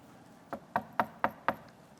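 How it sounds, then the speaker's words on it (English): Five sharp, evenly spaced knocks on a door, close and crisp, with no voices. "knock on the door."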